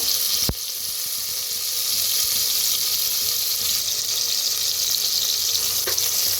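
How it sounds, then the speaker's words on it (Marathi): Crushed green chili and garlic roast in hot oil for a village-style chicken dish, giving a steady close sizzle throughout, opened by a sharp clink or tap, with no voices. "जे आपण हिरवी मिरची लसूण चेचून घेतलं होतं ते तेलात भाजून घेऊया"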